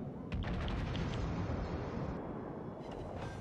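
Naval gunfire in the PS5 game World of Warships Legends: heavy booming shots rolling over a dense, rumbling battle din, loud and continuous across a few seconds.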